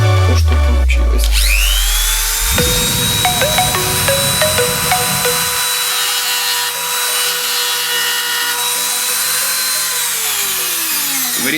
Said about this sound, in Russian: Теперь берем нашу шлифмашинку или бормашинку, и вырезаем то, что получилось.